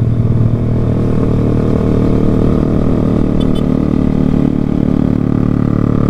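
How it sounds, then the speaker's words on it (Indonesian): A motorcycle ridden without a rear brake and without a rear fender gives a continuous close engine drone with a steady rumbling tone and some road noise, heard throughout without any talking. "lihat motor Epi warna hitam gini, terus gak ada spakbor"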